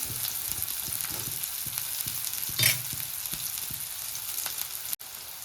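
Onions sizzling in a pan for Gujarati-style batata poha, a steady soft frying hiss with light stirring scrapes and one brief louder burst partway through.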